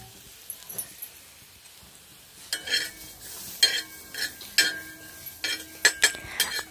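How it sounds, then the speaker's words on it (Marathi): Coriander seeds dry-roasting in a pan, stirred with a metal spoon: repeated scraping and clinking strokes in irregular bursts, close by, with a soft crackle between them and no talk. "वाटाणे शिजूपर्यंत धने भाजून घेऊयात।"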